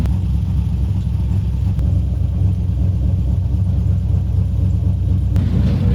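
A 1965 GMC C10 truck engine drives up a road, a loud, steady, close low rumble with a continuous throb and no talk.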